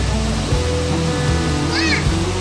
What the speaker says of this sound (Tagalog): Bagsak ng tubig.